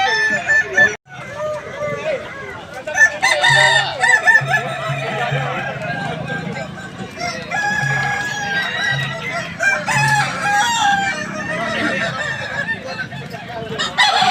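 Kukuak Balenggek roosters crow over and over at a crowing contest in Padang, their long, wavering calls overlapping with clucks and with people talking in the background.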